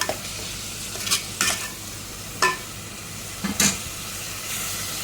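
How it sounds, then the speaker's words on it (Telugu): Prawn keema balls frying in hot oil in a pan, a steady sizzle with several short scraping stirs spaced across it, close and alone. "మనము దీన్ని బాగా ఫ్రై చేసుకోవాలన్నమాట"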